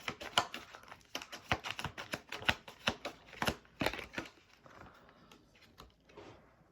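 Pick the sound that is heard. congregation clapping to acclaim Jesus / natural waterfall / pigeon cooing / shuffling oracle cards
shuffling oracle cards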